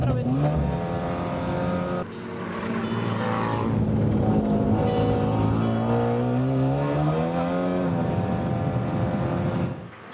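A race car laps a training track, its engine droning steadily and shifting down into a bend, with a voice talking over the engine throughout.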